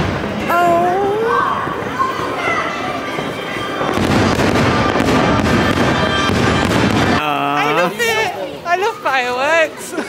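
Fireworks burst and crackle over Magic Kingdom amid a noisy crowd, with sustained rumbling booms and people chattering and exclaiming nearby throughout.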